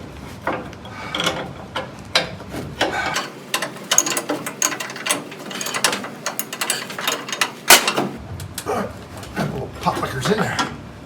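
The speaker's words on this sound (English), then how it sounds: "So just taking that bolt out right now" Bolt being wrenched out of the brake master cylinder on a 1970 Dodge, with steady ratcheting clicks and metallic tool clatter up close, continuing in irregular bursts while a person talks over the work.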